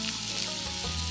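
Food sizzles and fries in a hot copper-coated pan at a campsite, a steady close crackle filling the short moment with no talking.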